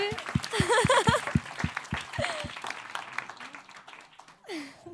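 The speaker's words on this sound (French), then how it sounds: "Des applaudissements un peu plus forts que ça" At a live stage show, an audience gives scattered, distinct hand claps with voices and chuckles mixed in, the clapping thinning out over the second half.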